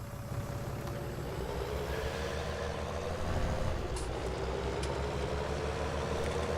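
Loader tractor engine in the Farming Simulator 19 video game, a steady low diesel drone with rumbling lows that runs continuously and grows slightly louder midway, with no talking over it.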